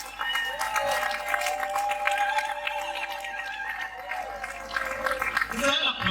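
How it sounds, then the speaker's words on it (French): A crowd applauds the medical director of the Makembi polyclinic at a hospital inauguration, clapping steady and moderately near under a busy mix of voices and some music. "Vous allez l'applaudir, docteur Passer"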